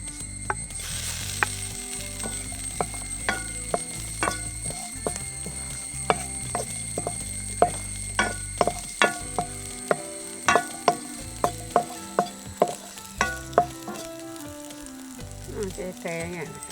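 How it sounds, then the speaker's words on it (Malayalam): Curry leaves hit hot oil for a bhindi roast, crackling and popping in a steady sizzle, with sharp, regular clicks from a stirring spoon against the pan. "ഇതൊന്ന് ഇങ്ങനെ ഒന്ന് ചൂടായി വരുമ്പോൾ നമുക്കടുത്തത് കുറച്ച് കറിവേപ്പില ഇട്ട് കൊടുക്കാം."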